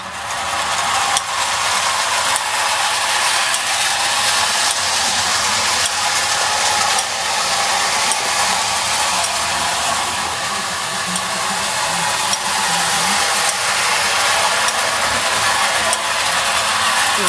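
A Marx clockwork toy train with a wind-up motor and working governor runs forward, giving a steady whirring buzz that stays even and close for the whole stretch, with no talk.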